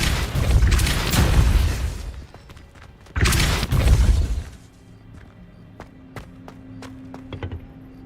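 A Depulso spell cast in Hogwarts Legacy, heard as two loud, broad whooshing bursts close together, followed by quieter clicks and faint ambient game sound.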